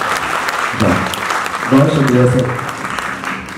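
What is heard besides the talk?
audience applause for the guest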